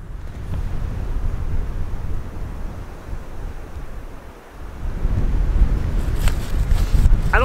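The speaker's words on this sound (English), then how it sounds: "It's a little windy" Strong gusty wind buffets the microphone with a low, continuous roar that briefly eases and then grows louder.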